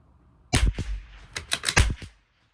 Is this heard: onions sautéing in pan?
no